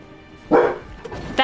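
A dog gives a single close, loud bark followed by a shorter yip, in a quiet indoor room.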